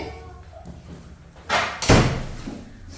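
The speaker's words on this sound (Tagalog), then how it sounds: "Sabi ko, isarado yung pinto. Sinarado pa naman." A door is pushed shut with two thuds, the second a solid slam, amid indoor room noise.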